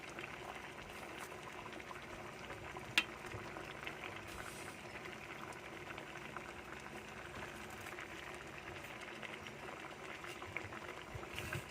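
Paksiw na tilapia simmering in a pot, giving a steady low bubbling and hiss of boiling liquid that runs throughout, close and fairly quiet, with one brief sharp click partway through.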